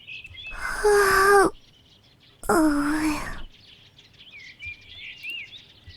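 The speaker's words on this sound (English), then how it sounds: "I could hear the faint chatter of birds outside the window" Video game ambience of birds calling outside a window in a quiet setting: two loud, drawn-out cries stand out up close, followed by softer, distant chirps in the background.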